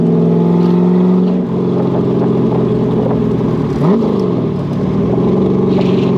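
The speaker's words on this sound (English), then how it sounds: "Nice, the downshifts, short throws from that gearbox." A Chevrolet Corvette Stingray engine drones loud and close as the car drives, with rev blips during quick downshifts rising over a steady low exhaust note.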